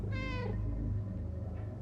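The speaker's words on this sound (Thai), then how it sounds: "เสียงแมว ใช่เหรอ" Cat in the video game Stray giving one clear, close meow that rises and falls, followed by quieter game background and a faint second cry.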